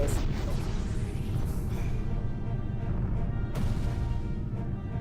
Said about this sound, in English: Oh, look, explosions actually push stuff.